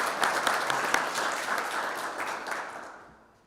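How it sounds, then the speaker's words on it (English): An audience at an outdoor economics press conference claps in a dense burst of applause that fades out toward the end. "You can clap for that"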